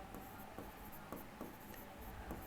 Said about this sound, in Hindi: यहाँ लिखते हैं ना क्या